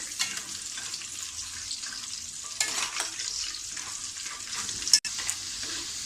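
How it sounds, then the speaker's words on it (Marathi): Peanuts stir-fried in a pan for poha chivda make a steady, close sizzle with scraping stir sounds, and one sharp clack comes near the end. "शेंगदाणे छान आपल्याला आतमध्ये परतून घ्यायचे आहेत।"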